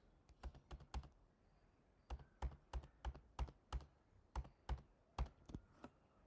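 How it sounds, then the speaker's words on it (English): Close, crisp typing on a computer keyboard, with quick clusters of sharp key clicks separated by short pauses and no talking. "I will type address in the hex"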